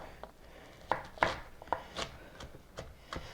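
A knife chops a yellow onion on a board, giving roughly ten sharp, quiet cuts at an uneven pace, close up and with no talk.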